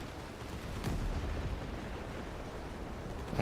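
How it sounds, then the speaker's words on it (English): Ship cannons firing in a pirate video game, a rumbling booming barrage with one sharper blast near the start and sustained low roar throughout. "Swivel guns, broadsides, front cannons, rear cannons."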